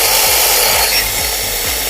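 A cordless electric drill converted into a water pump runs continuously at close range, a loud steady whirring with a rhythmic rubbing pulse as water is pumped.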